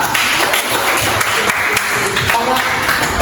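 Students in a classroom clap for a group that has just presented, a busy uneven patter of hands near by with chatter and voices over it.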